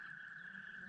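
A frog croaks at a Newfoundland lake in mating season, one faint, steady trilling call held through the whole second against a quiet background.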